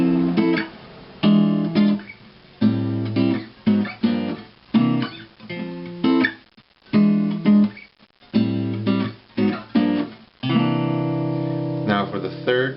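An electric guitar plays a chord progression with jazzy seventh and ninth chords, strummed in short, rhythmic stabs that ring and then are cut off, loud and close.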